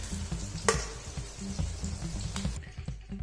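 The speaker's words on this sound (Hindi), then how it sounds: "ये देखिए प्याज थोड़े से ब्राउन होना शुरू हो गए" Sliced onions fry in oil in a pan while they begin to brown, giving a steady, close sizzle with soft stirring scrapes and one sharp clink partway through.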